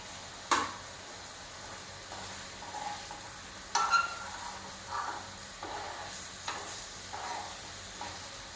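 Egg curry for a bull's-eye egg dish boils and sizzles in a pan, a soft, steady hiss broken by several brief stirring scrapes and bubbling pops, with no talk.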